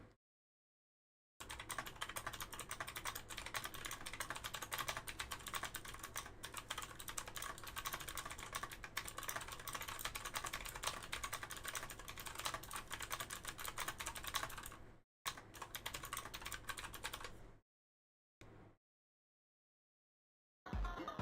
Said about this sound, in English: I have the ASMR keyboard now.